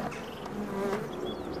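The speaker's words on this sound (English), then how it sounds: "There's an okay bunch of bees in it." A dense, steady hum of many honey bees buzzing up close in a nuc hive during inspection, a continuous droning swarm sound with no voices.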